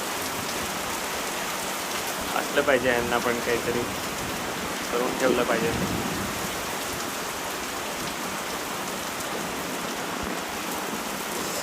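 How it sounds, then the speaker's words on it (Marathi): Heavy rain pours steadily during a storm in Hinjewadi, a dense continuous hiss filling the whole scene, with people talking briefly over it. "इतका जोरात पाऊस आहे"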